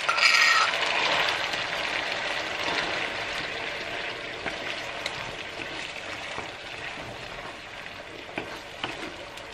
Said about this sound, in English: I will fry you a couple of meatballs.